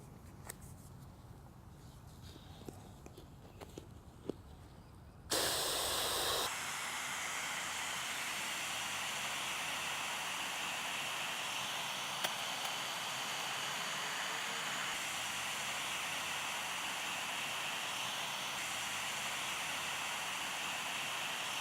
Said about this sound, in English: So let's put the hose in there now and fill it up.